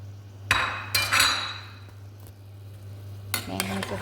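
Chicken pieces dropped into a frying pan and stirred, with a few loud clattering scrapes of a spoon against the pan over a low steady hum, then a softer sizzle and more stirring near the end.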